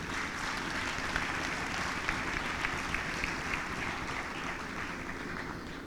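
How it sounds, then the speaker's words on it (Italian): Audience applause fills a concert hall at a Venetian choral festival's closing concert, a steady, moderate wash of clapping lasting throughout with no talk over it. "Comunque un applauso."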